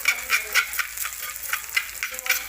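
Rhythmic scraping of a spatula in a wok as wild boar is stir-fried, quick repeated strokes over a constant sizzle, close up.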